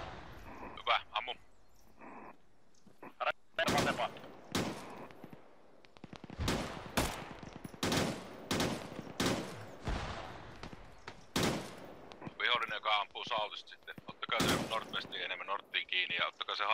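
Repeated gunfire from the Arma 3 video game: sharp, loud shots in bursts and single cracks, close by, with players talking over the firing.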